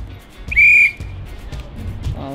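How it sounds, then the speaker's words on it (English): A single short, shrill whistle blast sounds once during a party challenge game, loud and clear against a quiet background. "Oh, I blew the whistle too late."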